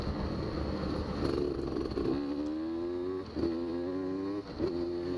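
A Beta 200 RR two-stroke dirt bike rides dry, rubber-worn trails, its engine droning steadily and nearby with rising revs and brief dips as the throttle eases and reopens, with no talk.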